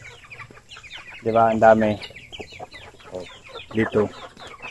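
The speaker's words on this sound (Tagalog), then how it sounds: "Dito sa kulungan ng manok. Ito yung mga manok natin." Chickens in a backyard coop on a rural province farm cluck and call in short bursts, close and fairly loud, while a person talks quietly between the calls.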